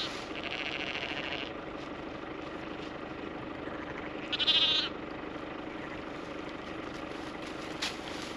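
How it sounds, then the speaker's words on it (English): A lamb stuck on the wrong side of a fence on a farm during lambing season bleats once, a short mid-distance cry, over a steady broad background rumble with a faint second call near the end. "This lamb's on the wrong side of the fence."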